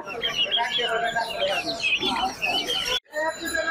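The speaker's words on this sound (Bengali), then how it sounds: "কি কি মুরগির আমদানি আছে মিরপুর 1 নম্বর হাটে।" Chickens, including Cochin and Kadaknath breeds, cluck and squawk at the Mirpur 1 poultry market, with dense overlapping calls up close and a voice talking among them.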